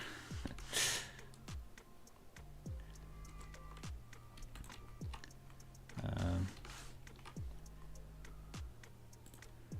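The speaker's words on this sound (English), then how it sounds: "how loudly I'm just pressing in my keyboards in my keys in a manic way" Computer keyboard keys are pressed hard and fast in a manic flurry, a dense run of sharp clicks with a few heavier thumps, under faint background noise.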